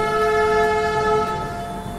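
The Saraighat Express, train 12346 from Guwahati to Howrah, sounds a loud, sustained horn-like tone over the steady rumble of the running train, continuous for about two seconds.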